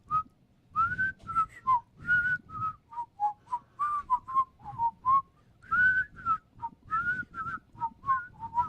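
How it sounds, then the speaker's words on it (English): A person whistles a quick, warbling melody in short bursts, the notes sliding and layered as if two tones sound at once. "Two-toned whistle from one man."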